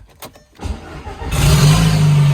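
A repaired, previously totaled Audi engine gets a short starter crank, then fires and settles into a loud, steady idle close by. No one speaks.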